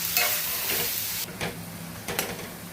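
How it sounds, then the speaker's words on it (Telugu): Prawns frying in a pan give a loud, close, steady sizzle and hiss, broken by a few stirring scrapes. "రొయ్యలు కూడా కాసేపు వేగించుకోవాలి."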